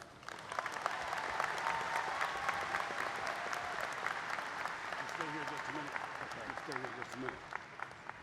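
Sustained crowd applause at a college commencement ceremony, steady and fairly loud across the whole stretch, with a voice speaking faintly over it near the end.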